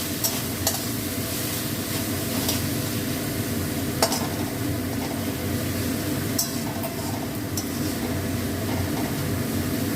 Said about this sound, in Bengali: এবার আমি ঢাকাটা খুলবো, খুলে ভালো করে নেড়ে নেবো